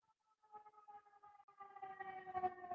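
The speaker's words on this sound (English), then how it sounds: "the fire truck's getting ready to go by" A fire truck siren passes by, its wailing tones starting faint and swelling steadily louder as the truck approaches, with no talking.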